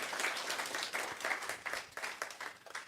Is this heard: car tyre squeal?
no